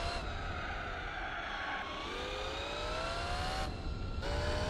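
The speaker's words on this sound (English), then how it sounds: "God, those braking sounds are just brutal" A race car's engine and brakes in Gran Turismo 4, with continuous tonal tire and brake screeching over a steady engine drone, the pitch sliding as the car decelerates and shifts, loud and unbroken throughout.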